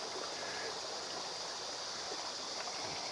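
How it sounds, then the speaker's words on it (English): A mountain creek in New Mexico's Catwalk Recreation Area runs strongly, a steady, loud rushing flow of water with no voices. "Look down the creek, and then this is down the other side. It's running pretty good."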